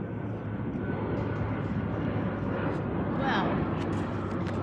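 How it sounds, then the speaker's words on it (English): An airplane flying overhead gives a steady, loud broadband roar throughout, with a voice speaking over it. "An airplane is going over."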